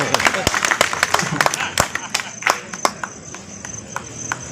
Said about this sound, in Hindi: खुलकर तालियां बजाओ।